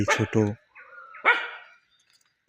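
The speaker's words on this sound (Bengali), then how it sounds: "অন্যদিকে কুকুর ডাকাডাকি করতেছে, তারাও ঘুমিয়ে নেই, তারাও জেগে গেছে।" Morning dogs in rural Bangladesh bark in a close, loud burst of several rapid barks, followed by a fainter yelping bark and then quiet.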